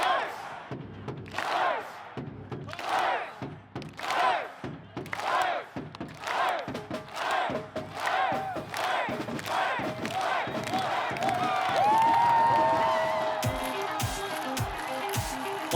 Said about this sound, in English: A huge crowd on hand again today